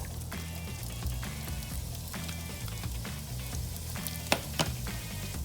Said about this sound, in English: We'll toss in your onions and saute them until they're translucent